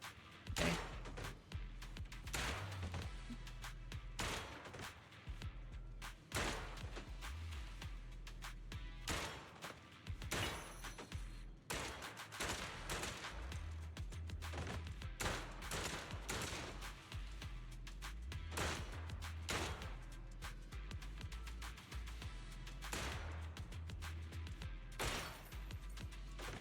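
Continuous rapid gunfire from the video game Zenless Zone Zero rattles on without a break, dense bursts of shots layered over booming low-end music and effects, loud throughout.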